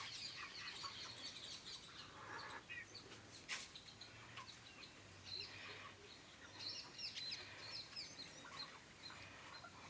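Native country chickens cluck and chirp softly outdoors on an open farm around a shed, a continuous low murmur of fowl sounds with faint birdsong and light wind, no talk.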